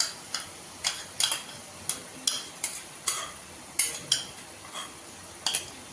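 A metal spatula scrapes and taps a pan while chicken is stir-fried with a yogurt spice mixture over a full flame. The sharp clinks come in irregular bursts of about a dozen over a low, quiet background.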